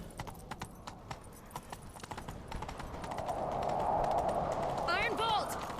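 Horse hooves galloping in The Witcher 3, a fast steady clip-clop beat with rising rumble and a brief whinny-like cry near the end.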